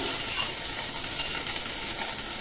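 Crushed ginger and green chili frying in a pan over a lowered gas flame, a steady close sizzle and crackle that runs without a break and with no talk.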